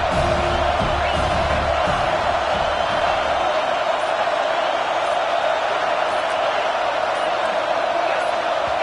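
A packed football stadium crowd roars in a loud, unbroken wall of noise that holds steady throughout, with faint low tones in the first few seconds.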